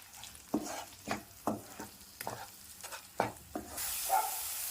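Chicken and masala frying in oil, with soft scraping stirs every half second or so and a crackling sizzle that rises into a steady hiss near the end.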